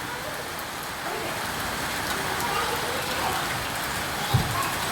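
Daily monsoon-season rain falls outdoors in a steady, even hiss of drops on surfaces, with one brief low thump near the end and no clear speech.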